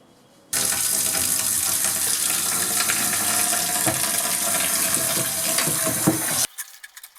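Running tap water splashing steadily into a sink for several seconds while a riding lawn mower filter is rinsed in soapy water, then the flow abruptly stops.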